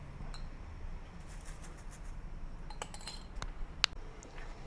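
A spoon scrapes and clinks against a slow cooker's crock while ground spices and salt are stirred in, giving scattered light metallic taps and one sharper clink over a soft background hush.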